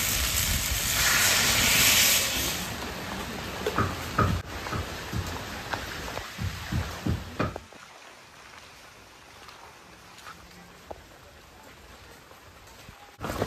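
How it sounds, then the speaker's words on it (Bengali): Water is poured into a hot pan of mixed vegetable curry with Malabar spinach stems, salt and turmeric, raising a loud sizzling hiss that fades into scattered crackles and light clatter. "এবার জল দিয়ে দেবো।"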